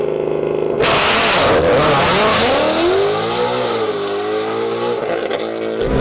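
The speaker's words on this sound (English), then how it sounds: "I'll just launch at a lower RPM." A Ford GT500 drag car launches hard at a drag strip, a loud close engine roar with a sharp rise then sweeping revs through gear changes.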